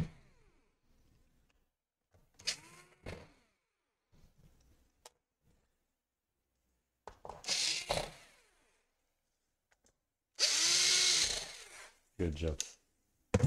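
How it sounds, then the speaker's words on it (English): A power screwdriver drives screws back into a Lenovo IdeaPad 330 laptop during a power-jack repair, in several short whirring bursts separated by quiet pauses, the longest and loudest near the end. "Screw all the screws in."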